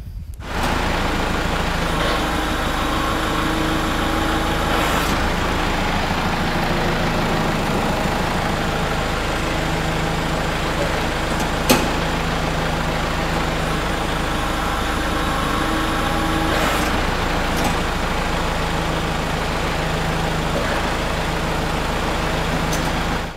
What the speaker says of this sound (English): let's fire up the tractor and use the rear remotes to open the grapple